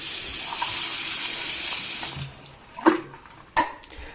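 Tap water rinsing soap off a telescope's secondary mirror: a steady splashing stream for about two seconds that then stops, followed by a couple of short sharp clicks and knocks in a quiet room.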